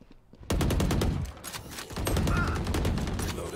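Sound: gunfire, video game Valorant

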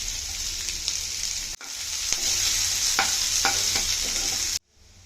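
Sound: garlic, onions and curry leaves frying in a pan

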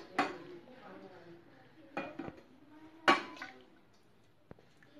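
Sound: stirring jaggery tea with heated milk in a pan

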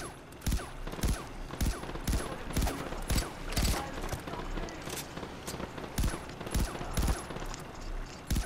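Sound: gunfire in the video game Far Cry 4

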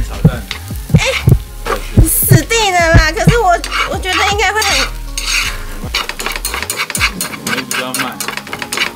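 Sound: frying oyster omelette in a pan

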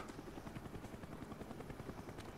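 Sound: helicopter in video game Call of Duty Black Ops

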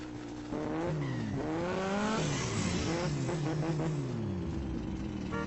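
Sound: loud engine revving

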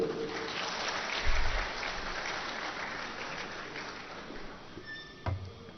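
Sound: audience applause

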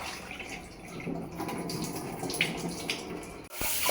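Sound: washing lentils under running water

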